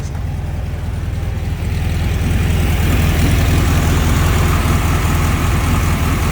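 An air-cooled engine on a 1978 VW Super Beetle convertible runs steadily at idle, a loud, continuous low rumble that swells slightly after the first second and holds even with no talking.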